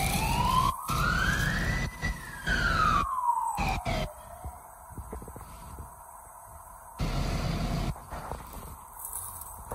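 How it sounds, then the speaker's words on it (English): An ambulance siren wails at a road accident scene outside a factory, its rising and falling tone sweeping loudly up close and then cutting in and out amid outdoor bustle. "the ambulance is here."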